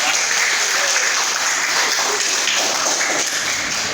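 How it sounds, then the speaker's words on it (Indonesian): Classroom applause for a student discussion group, dense and continuous clapping from many hands, loud and close, with no talking over it. "bisa tepuk tangan dulu untuk kelompok"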